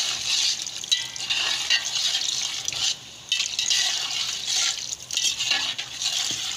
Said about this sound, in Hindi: थोड़ा सा पानी डालूंगी इसमें, डाल देती हूँ।